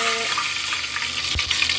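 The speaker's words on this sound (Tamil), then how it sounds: "இந்த கறி மசாலா பட்டை எடுத்து அப்படியே இந்த எண்ணெயில் போட" Curry masala cinnamon bark dropped into hot oil, a steady close sizzle with a brief burst of spitting partway through.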